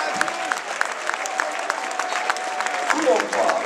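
Crowd applause at a Charleroi football stadium, sparse scattered clapping at moderate level with crowd murmur and voices mixed in, continuing throughout.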